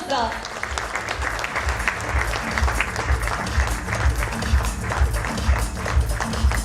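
Dense, steady audience applause at an award function as an awardee is invited on stage, with music and a low rhythmic beat playing underneath throughout.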